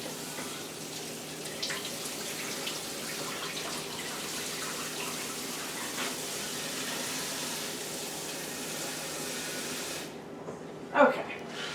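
Tap water runs steadily for a quick rinse of dill pickle relish ingredients in a home kitchen, a continuous broadband wash that stops abruptly near the end, followed by a brief clink.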